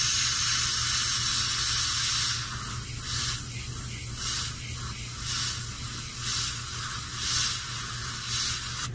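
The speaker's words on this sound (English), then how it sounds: "I gradually move the airbrush back to kind of add a little bit of overspray for the whole area" Airbrush spraying paint overspray across a Chevelle car body, a steady airy hiss with repeated short bursts as the spray pulses on and off, close and even.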